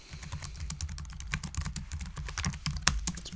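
Someone types a book draft on a computer keyboard, producing a steady flurry of light key taps with uneven rhythm, close and fairly quiet, without any speech.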